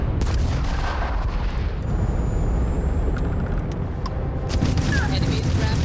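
Spaceship weapons fire in Starfield, a space combat video game. Dense, rumbling blasts and sharp cracks repeat under a loud, continuous roar, with a voice speaking over parts of it.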